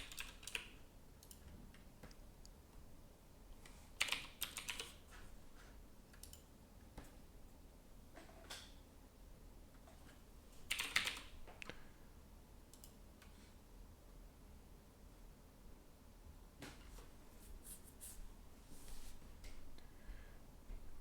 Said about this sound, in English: You gotta get the sounds off my keyboard